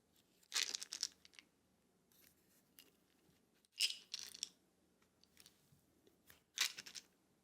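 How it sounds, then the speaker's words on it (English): Wood textures handled close up for ASMR, three sharp crunching, crackling bursts separated by quiet gaps, with faint tapping and rustling between them. "Kind of sounds like a crunch."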